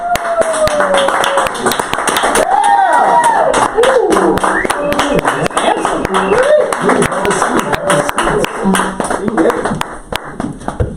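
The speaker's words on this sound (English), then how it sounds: "Please give a big round of applause for Mr. Andrew Lipton." A small audience claps for a talk show guest, brisk nearby claps with some whoops and excited voices over the top, continuing steadily before thinning near the end.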